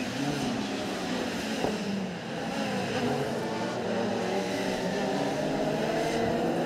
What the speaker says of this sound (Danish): når Danner han trykker på speederen, jamen, så stikker ITC AMG-raceren altså fra ham